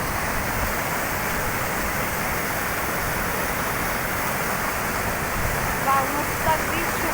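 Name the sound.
strongly flowing stream water by the road to a dam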